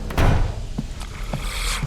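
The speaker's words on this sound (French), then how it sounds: "La porte elle s'est fermée" A door closes in the horror game Until Dawn with a muffled thump near the start, followed by a few softer knocks and thuds amid low ambient rumble.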